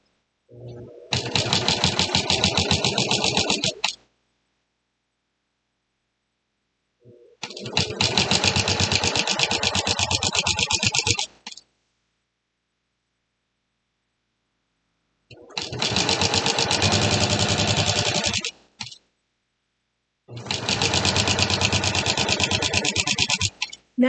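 A sewing machine stitches a quilt-as-you-go table runner in four bursts of steady, fast whirring, each lasting about three seconds, with silent pauses between them; the sound is close and clear, with no talk.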